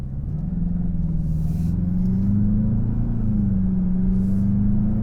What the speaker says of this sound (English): Okay, driving the GLI.